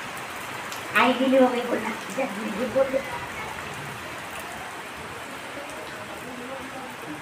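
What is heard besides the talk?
sudden rain falling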